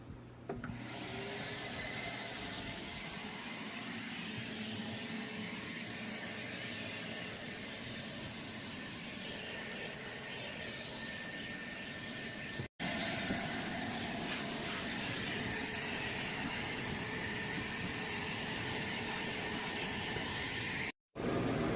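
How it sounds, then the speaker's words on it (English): A vacuum cleaner runs continuously while cleaning the interior of a 2014 Honda Civic, a steady broadband whooshing drone with two brief cutouts near the end and no talking. "we're going to start where any good detail should, and that's with vacuuming"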